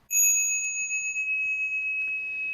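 A bell struck once at a Buddhist lecture rings out in a clear, bright metallic tone that sustains and slowly fades, with faint incidental noises underneath.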